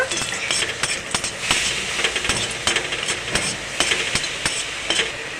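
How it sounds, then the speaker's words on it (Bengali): Two dried red chillies fry in a little oil in a wok, giving a steady crackling sizzle. Close metallic scrapes and taps from the stirring break through it at intervals. "শুকনো লঙ্কা দুটো নেড়ে ছেড়ে ভেজে নেব"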